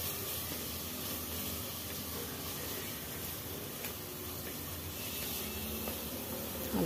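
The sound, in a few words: masala paste frying in a pan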